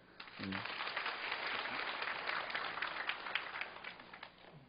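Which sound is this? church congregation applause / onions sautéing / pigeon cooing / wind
church congregation applause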